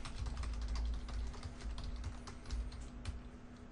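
Fingers tap steadily on a computer keyboard, a quick irregular run of light clicks close by, fairly quiet, with no voices.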